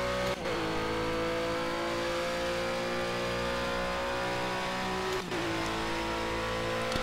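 GT4 race car drifting at Monza in the Project CARS racing game, a loud sustained engine roar with steady revving and two brief dips as gears shift, no voices.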